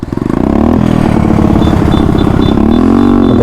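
A motorcycle engine, loud and close, starts with sharp pulses and then revs hard and steady as the rider gets ready to try a wheelie, its pitch rising toward the end.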